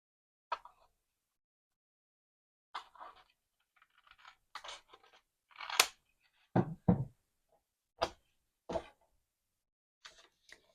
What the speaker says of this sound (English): I'm just going to cut off this little bit of overhang that I have on the side.